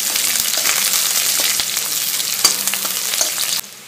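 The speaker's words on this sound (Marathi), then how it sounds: "त्यानंतर उभा चिरून घेतलेला 1 कांदा, कांदा तेलावर चांगला परतवून घ्यायचा आहे" Thinly sliced onion frying in hot oil, a dense close sizzle broken by scraping stirs and a few sharp knocks of the spoon before it abruptly cuts off.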